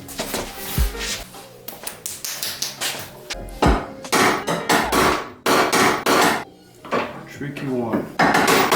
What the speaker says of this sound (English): I need the hammer.